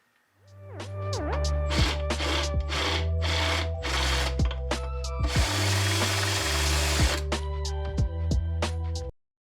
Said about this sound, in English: I'm going to have to use my step bit.